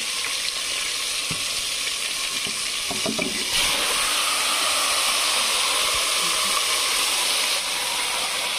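Marinated chicken pieces hit hot oil for biryani with a loud, continuous sizzle and crackle, briefly rising as more pieces go in, with a few clinks of a utensil and no talking.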